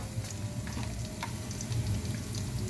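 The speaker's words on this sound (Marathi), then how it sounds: "लसूणच्या सोबतीला छान हिंग आपला फ्राय होतोय" Garlic, asafoetida and mustard seeds fry in hot oil in a pan, giving a close, continuous dense sizzle with faint crackles and no voices.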